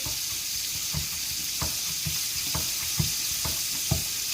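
Chicken frying in a pan gives a steady hiss of sizzling, punctuated by regular sharp pops and crackles about every half second, close and fairly quiet, with no voices.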